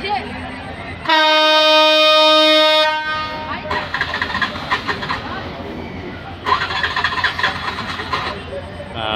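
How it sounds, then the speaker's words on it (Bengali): Ekota Express to Panchagarh pulling out of Santahar Junction behind locomotive 6006, a long loud horn blast followed by the heavy rumble and rattle of moving carriages, close by, with a person talking over it. "সান্তাহার থেকে ছেড়ে যাওয়া একতা এক্সপ্রেস ঢাকা থেকে ছেড়ে আসা পঞ্চগড়গামী এই মুহূর্তে সান্তাহার জংশন"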